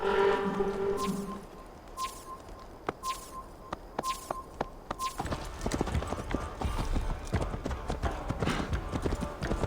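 Hooves clip-clop steadily in a Viking-era video game, a horse walking close by on hard ground, with sparse background music and ambience and a few faint other sounds around it.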